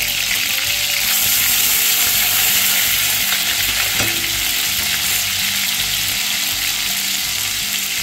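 Ginger-garlic paste frying in hot oil for a broad bean bhaji, a steady, dense sizzle running loud and continuous throughout, with a brief clink of a utensil partway through and no voices.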